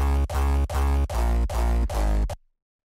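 A dry hardstyle kick drum in FL Studio, played without its reverb punch layers, pounds out six heavy, distorted hits in an even rhythm, each with a booming pitched tail, before stopping dead.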